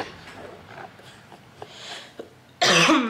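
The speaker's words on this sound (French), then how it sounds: "Désolée, je tousse encore." After a few quiet breathy sounds, one loud harsh cough bursts out close by near the end.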